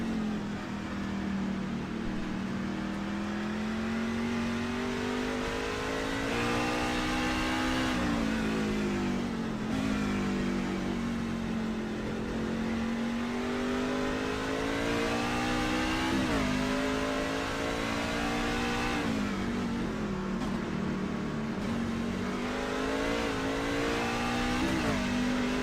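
Race trucks' engines roar continuously on a road course in a racing video game, revving up and down as they power through corners, loud and steady throughout.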